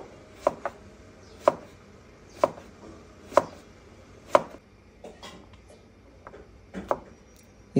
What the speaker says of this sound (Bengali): গাছের লাউটা কেটে নিয়েছি, এখন এটাকে চাক চাক করে কাটবো।